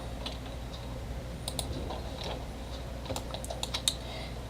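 Keyboard key presses and mouse clicks while modeling in Blender 2.5: soft, irregular clicking and tapping in small clusters, close and moderately quiet over a low background hum, with no talking.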